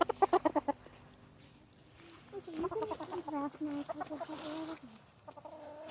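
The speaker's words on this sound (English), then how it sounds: "Chicken." Chickens clucking near a backyard garden greenhouse: a quick burst of clucks, then a longer run of softer, rhythmic clucking and chatter over faint background noise.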